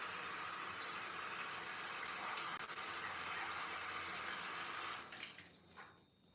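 Tap water runs steadily as a vegetable is washed and peeled in a kitchen, a continuous faint hiss that breaks up briefly near the end.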